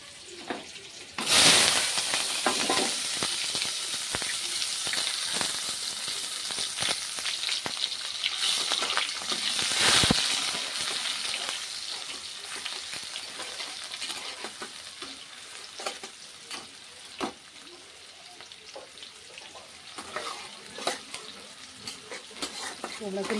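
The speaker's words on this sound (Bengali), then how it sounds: "শুকনো লঙ্কা তেজপাতা ফোড়ন দিয়েছি" Dried red chillies and bay leaves sizzle in hot oil for a meat curry tempering, a steady crackling fry with occasional stirring scrapes and louder spits.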